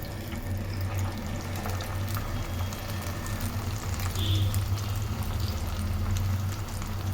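Potato pieces coated in maida flour fry in hot oil in a pan, a dense, continuous bubbling sizzle that stays steady and fairly loud throughout.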